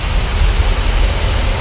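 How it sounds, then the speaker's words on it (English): Steady rain pours in a Kenyan village, a dense, even hiss with a soft low rumble, loud and close with no voices. "It's raining in the village."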